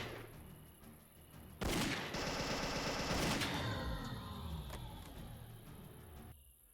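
Gunfire in the game Grand Theft Auto V, a sudden burst followed by another sharp volley, heard fairly faint and distant over a low background rumble that slowly fades.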